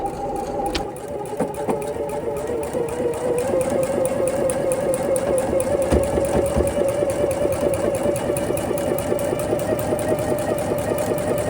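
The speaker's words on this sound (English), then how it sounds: "line it up with the edges on both sides of my center block and sew down both seams" A sewing machine stitches quilt block seams at a quarter-inch allowance, running a fast, steady mechanical whir with rapid regular needle ticks, close and continuous throughout.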